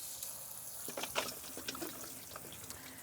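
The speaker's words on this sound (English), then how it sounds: "and defrost them under some water." Tap water runs and trickles over frozen chickpeas in a colander, a steady, fairly quiet wash with a few brief splashes and drips near the middle.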